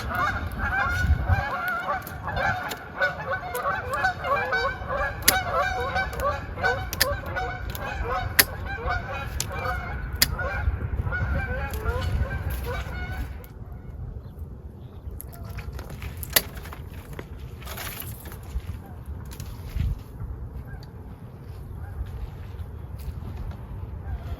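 A flock of geese honks busily and continuously outdoors near an apple orchard for the first half, then the calls thin out to scattered, fainter honks over low wind-like background noise.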